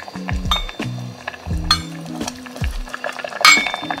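Miso paste is stirred into soup with a utensil, making repeated clinks and scrapes against the pot in uneven bursts, along with a few sharper knocks near the end.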